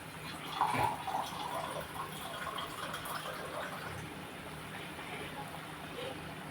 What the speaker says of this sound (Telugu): ఇంకా కొన్ని నీళ్ళు వేసాను